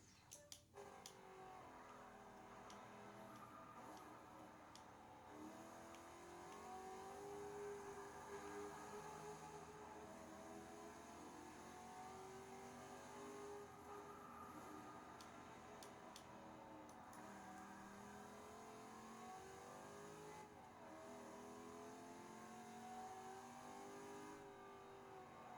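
Car engine in Forza Motorsport 6 racing, steady loud revving that rises and falls through gear changes, with sustained acceleration and brief lifts off the throttle, no talking.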